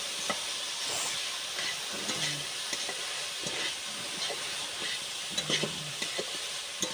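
Grated coconut stirred in a pan for patishapta pitha: a soft continuous hiss and sizzle with scattered scraping strokes and a few sharper clinks of the spoon near the end, close and quiet.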